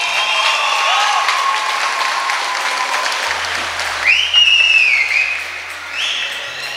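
An audience at a Jogi Yuva Brigade sports meet applauds the team, sustained crowd clapping in a steady wash, with sharp whistles rising near the end and no voices heard.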